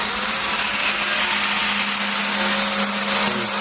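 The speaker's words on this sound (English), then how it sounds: "Plug welding." Plug welding on a replacement kick panel for a 1951 GMC 100 pickup, a steady close crackling hiss that runs continuously and loudly throughout without pauses.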